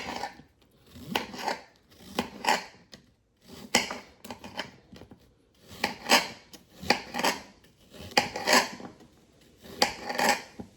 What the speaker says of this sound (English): Sorry for the noise on my cutting board.